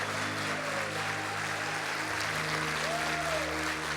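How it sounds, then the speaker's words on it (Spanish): Church congregation applauding with sustained loud clapping from many hands that fills the room evenly, with a faint tonal hum beneath and no words spoken. "Si alguien cree esto, levanta un aplauso poderoso"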